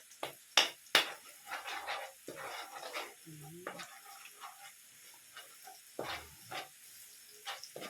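Garlic sizzles and fries in a hot pan for menudo, with stirring scrapes and a few sharp utensil clanks, a steady low hiss underneath; a voice speaks faintly now and then.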